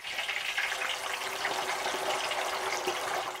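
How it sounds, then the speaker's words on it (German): Steady, dense hiss of pork belly deep frying in hot oil, loud and close, with occasional sharp pops from the skin bursting through the constant sizzle. "Es spritzt ganz schön, es hört sich auch so an, als würde die Schwarte poppen."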